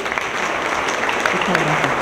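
Loud audience applause at a public event on personal data protection, a crowd clapping steadily in a hall with a voice briefly audible beneath the clapping.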